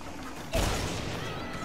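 A sudden explosion bursts in a video game, a loud broadband blast that cuts in abruptly and lingers as a rumbling decay.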